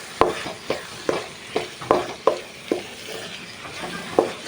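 Chopped tomato frying in a pan and being stirred, a steady sizzle broken by about ten regular scraping strokes, close and moderately quiet, no talk.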